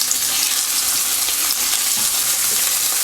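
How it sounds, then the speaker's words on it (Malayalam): Prawns fry in hot coconut oil in a pan with a loud, continuous close sizzle and crackle, steady throughout with no talk. "ചെമ്മീൻ ഓരോന്നായിട്ട് നമുക്ക് ഫ്രൈ ചെയ്യാം."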